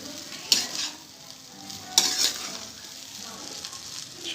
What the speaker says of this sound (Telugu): వైట్ రైస్ వేసిన తర్వాత ఈ విధంగా బాగా కలుపుకోవాలి.